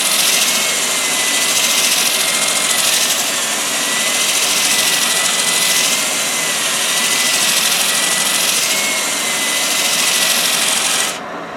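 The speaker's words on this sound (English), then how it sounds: "you can see that the abrasive is doing its work because the dust is coming off quite healthily down into the extractor port" A sanding arbor on a woodturning lathe abrades a spinning wood edge with dust extraction running, a loud, constant rushing and whirring grind that holds steady before dropping off at the end.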